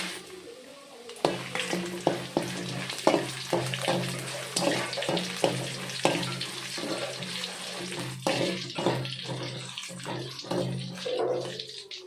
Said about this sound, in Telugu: ఆయిల్ అయితే వేసాను. ఎండుమిర్చి వేస్తున్నాను.